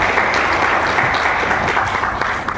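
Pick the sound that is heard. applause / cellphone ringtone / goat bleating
applause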